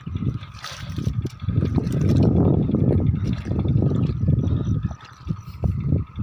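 Irrigation water rushing and gurgling into a flooded rice paddy, a continuous churning flow heard close up, swelling in the middle and dipping briefly near the end.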